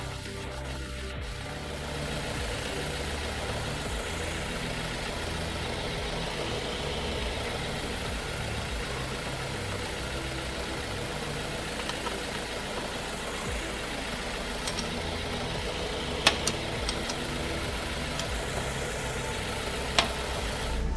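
A car engine idles steadily with a low, even hum during a transmission oil fill, joined by a few faint clicks and taps.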